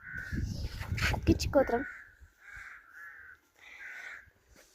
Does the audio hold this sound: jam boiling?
no